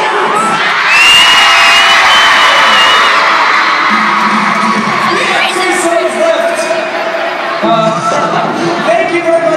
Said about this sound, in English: that calls for a celebration scream